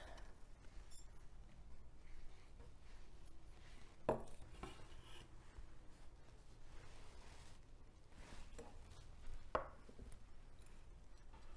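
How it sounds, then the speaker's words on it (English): A knife chops lemongrass quietly on a cutting board in soft, steady strokes, dicing it small, with a couple of sharper knocks standing out. "I'm going to dice this up pretty small."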